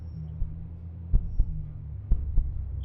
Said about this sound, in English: the heartbeat has started